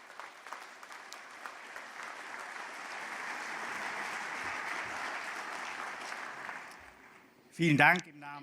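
Steady applause from a large audience at a Fresenius annual general meeting fills the space, swelling and then fading, before a brief louder burst near the end.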